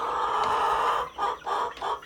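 Chickens in a backyard coop of about 39 birds give a close, loud run of clucks and squawks, a sustained call followed by three shorter bursts, with no talking.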